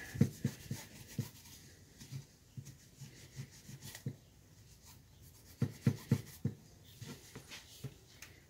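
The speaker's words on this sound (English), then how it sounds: "So I'm going to go ahead and clean up these surfaces here." Close, irregular scraping and rubbing bursts from cleaning the intake manifold gasket surfaces on a 285,000-mile Ford F-150 4.6L engine with a coolant leak. Strokes come in uneven clusters.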